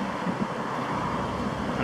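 Steady road traffic rumbles in the background outdoors while a person walks and talks over it, a continuous low wash of passing cars.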